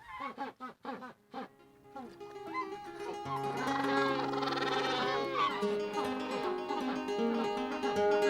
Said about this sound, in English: a colony of Magellan penguins who nest here each year, the largest colony outside Antarctica